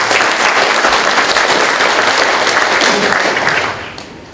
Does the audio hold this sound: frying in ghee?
no